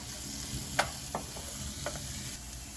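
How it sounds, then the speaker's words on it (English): Chopped onion and diced jalapeno sauté in butter in a pan, a faint steady sizzle with a few sharp utensil taps and scrapes standing out. "you want to saute that onion until it just becomes translucent"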